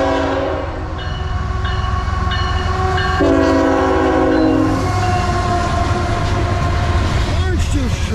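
A Tropicana orange juice freight train rumbles past close by, its horn sounding in several long blasts over the steady roar of rolling wagons.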